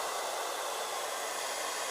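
A hair dryer blows steadily on a damp cloth car seat during interior detailing after stain cleaning, a close, even rushing hiss of air with no talk.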